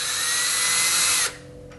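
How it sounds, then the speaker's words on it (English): Power drill bit marking a 3/16-inch hole in aluminum pack frame tubing, a steady loud high whine for over a second, then cutting off to leave a faint low hum. "You're going to mark it with your drill"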